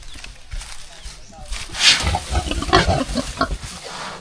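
Pigs grunting close by on a farm, a run of short irregular snorts and oinks that grows busier after the first moment, mixed with someone talking.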